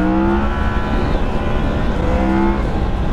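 A 2016 Yamaha MT-10 motorcycle accelerates hard through its gear changes, the close, loud engine note rising and dropping steadily under heavy wind noise.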